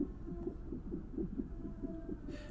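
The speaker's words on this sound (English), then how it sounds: "a little heartbeat battering away" Heartbeat in the investigative horror game Quintus and the Absent Truth, a muffled low thumping pulse repeating at a steady quick rhythm, close and moderately loud over a soft hum, no talk.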